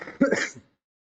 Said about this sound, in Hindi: यार ये खांसी बड़ा तंग कर रहा है।